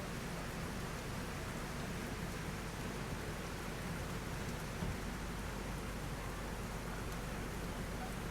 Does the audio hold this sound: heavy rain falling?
yes